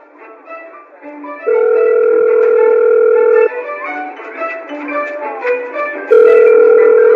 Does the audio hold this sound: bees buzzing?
no